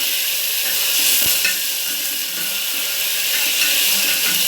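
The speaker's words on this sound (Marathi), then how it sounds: "आणि वाटाणा बटाटा आपण घेतलेला तो पण ह्याच्यामध्ये छान टाकून घ्यायचा आहे हे सगळं आपल्याला छान मिक्स करून घ्यायचं आहे" Peas and potatoes stirred in a hot sizzling pan for a Marathi-style pea curry, a steady loud sizzle and fry hiss with soft scraping stirs and one brief knock, no talking.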